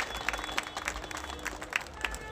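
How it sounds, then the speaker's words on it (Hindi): An audience at an honour ceremony welcomes guests with scattered clapping, giving quiet, irregular claps across a murmuring hall. "भाई साहब, ताली से स्वागत होना चाहिए,"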